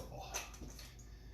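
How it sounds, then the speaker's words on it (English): Water is squeezed out of a fistful of grated potato over a kitchen sink, a soft, close splashing trickle under a faint background hum. "I'm going to squeeze as much water out of there as possible."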